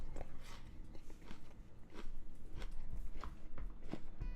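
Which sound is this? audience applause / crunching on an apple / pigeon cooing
crunching on an apple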